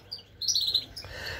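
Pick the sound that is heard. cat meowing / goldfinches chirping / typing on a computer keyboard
goldfinches chirping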